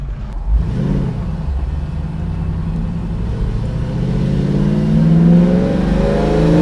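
A 1967 Ford Mustang engine revs while driving, rising in pitch as the car accelerates, loud and close from the cabin, with the drone climbing steadily toward the end.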